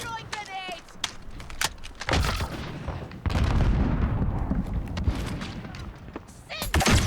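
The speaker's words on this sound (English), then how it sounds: "Throwing grenades." Grenades explode in the game Call of Duty: Modern Warfare, a series of heavy booming thuds alongside gunfire and other bangs, loud and dense, with players talking over the action.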